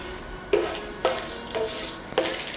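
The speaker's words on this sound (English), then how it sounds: "Saute this for a while." Anise, cinnamon, cloves, cardamom and bay leaf sauté in five tablespoons of ghee with a low sizzle, punctuated by four evenly spaced stirring scrapes.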